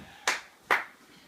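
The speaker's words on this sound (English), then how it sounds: "That's something worth clapping for" Two sharp hand claps, about half a second apart, ring out alone and fairly close during a live tag-team wrestling event, with no talking over them.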